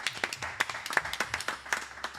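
Scattered clapping from a small podcast audience giving a quick round of applause, uneven claps close and fairly light, no talking over them.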